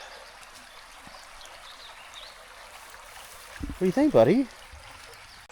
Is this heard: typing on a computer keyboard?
no